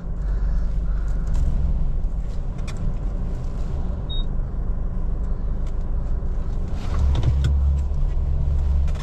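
A car engine freshly serviced with an oil change runs smoothly, a steady low rumble heard from inside the moving car throughout, with no talking.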